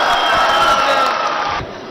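An audience at a Patanjali Yogpeeth foundation day gathering honoring wrestling and kabaddi cheers and claps in a loud, sustained crowd roar that tapers off near the end.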